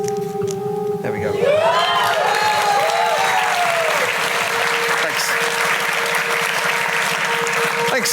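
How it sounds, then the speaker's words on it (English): Audience applause fills the room after a Rubik's Cube solve at a live stage show, starting near the one-second mark and holding steady, with a brief voice and electronic chirping tones heard early. "thank you for clapping"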